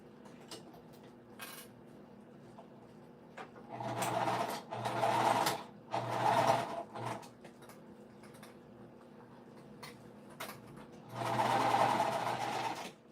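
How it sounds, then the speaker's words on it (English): Sewing machine stitching slowly around the exterior of a winter crescent bag made from upcycled fabric, with thick layered areas; several bursts of motor hum and needle rattle separated by pauses, close and moderately loud, no talking. "I'm just going to stitch all the way around my exterior."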